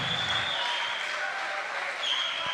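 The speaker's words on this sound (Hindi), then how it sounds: "भरपूर तालियां" Audience applause at an annual mushaira poetry event at Gujranwala Medical College, a steady wash of clapping heard under a distant, reverberant hall sound with a faint high tone, with no rise or fade.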